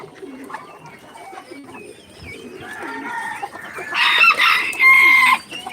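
Chickens cluck and birds call in a busy yard, the calls building and growing louder toward the end, with Muscovy and plain ducks calling among them.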